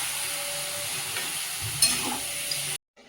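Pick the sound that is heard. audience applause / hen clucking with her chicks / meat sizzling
meat sizzling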